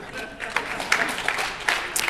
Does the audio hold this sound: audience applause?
yes